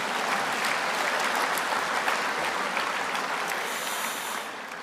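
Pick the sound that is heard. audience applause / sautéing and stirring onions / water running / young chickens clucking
audience applause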